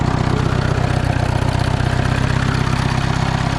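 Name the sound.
old Renault 110-23 tractor diesel engine idling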